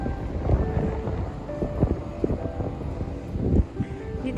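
Gusty wind buffets the microphone outdoors near a tram station, a low rumbling roar that swells and dips throughout, with faint thumps and distant background activity.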